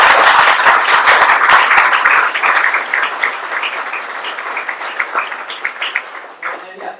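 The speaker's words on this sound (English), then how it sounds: "Let's give a round of applause for all of our." A meetup audience gives closing applause in a room. Dense, loud clapping starts full and then gradually thins into scattered individual claps over about seven seconds.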